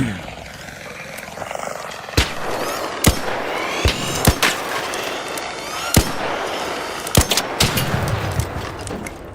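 Gunfire in the ARC Raiders shooter game: sharp, loud single shots cracking at irregular intervals, some in quick pairs, over a dense, noisy battlefield backdrop.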